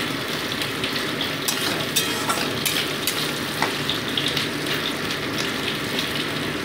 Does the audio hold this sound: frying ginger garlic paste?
yes